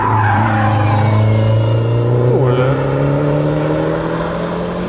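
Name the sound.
race car sliding on track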